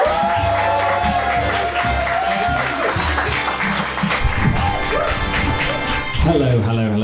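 A comedy show audience claps, cheers and whoops loudly and continuously to welcome a comedian onto the stage, a dense roar of crowd noise with a host's voice over it and the performer starting to speak at the end.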